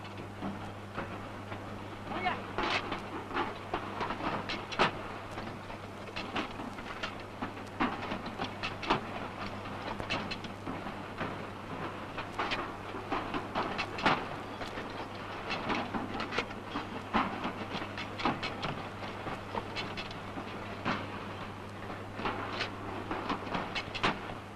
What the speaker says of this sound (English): These tops and bottoms are now joined to the body of the tin in a machine called a